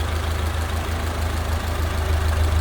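A 1931 Ford Model A two-door sedan engine with a downdraft carburetor idles steadily, its low, even rumble and fast regular pulsing held close and loud throughout without speech.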